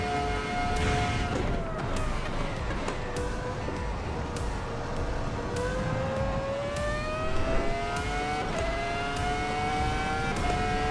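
A high-pitched race car engine screams and revs steadily, its whine climbing with quick gear shifts, loud and continuous with no talking.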